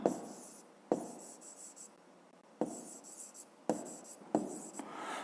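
Pen or pencil scratching across paper in a quiet room, several short bursts of handwriting separated by brief pauses, close and fairly soft.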